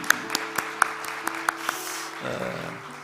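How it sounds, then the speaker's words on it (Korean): Steady, evenly spaced hand claps from a church congregation at a Korean youth worship service, ringing over a sustained organ-like tone in a reverberant hall, with no talk. "우리 목사님 인사할 때 우리 한 박수 한번 할까요?"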